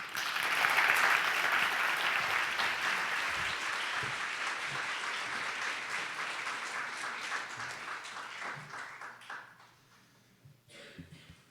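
Audience applause at a research presentation competition, a full sustained round of clapping from a large room that gradually thins and fades out near the end.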